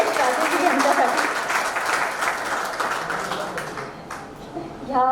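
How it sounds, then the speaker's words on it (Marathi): An audience claps loudly for a poet at a Marathi poetry gathering, a dense, sustained round of applause lasting the whole stretch, with voices mixed in and a brief swell near the end. "एकदा जोरदार टाळ्या होऊन जाऊ दे"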